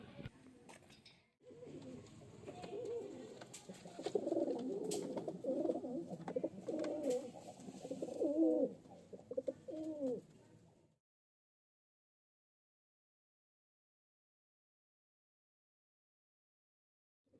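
Pigeons in a loft coo in overlapping throaty, rolling calls with some wing flutters, close and moderately loud for about nine seconds before falling silent.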